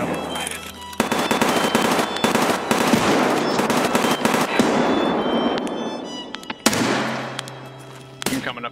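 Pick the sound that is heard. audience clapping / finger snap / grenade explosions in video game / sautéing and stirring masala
grenade explosions in video game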